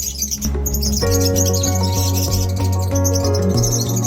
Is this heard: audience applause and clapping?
no